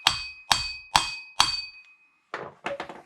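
A hammer taps the flange of a Mitsubishi L200 MK3 K74 propshaft resting on a wooden block, giving four evenly spaced sharp metallic knocks followed by a few quicker, duller taps, close and clear.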